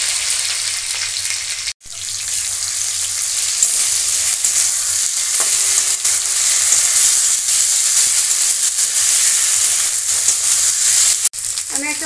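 Paste of ground dried red chilli, cumin and ginger sizzles steadily in hot oil, a dense continuous frying hiss with a brief break near the start and another near the end, for an egg dhoka curry.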